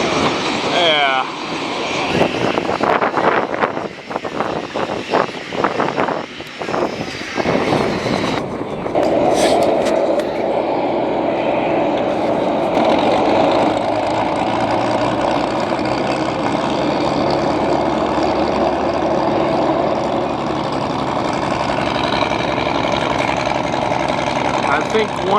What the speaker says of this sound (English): I think one of the Dodger planes is about to take off